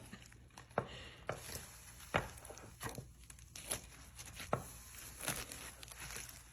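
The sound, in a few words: cutting through a Doritos casserole with croissant dough base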